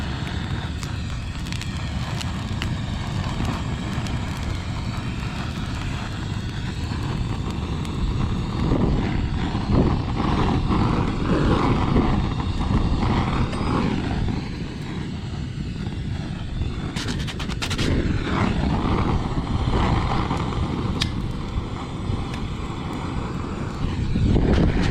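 A cheap £15 Lidl gas weed burner roars continuously, a loud broad rushing flame with steady intensity and some surging, heard close up outdoors.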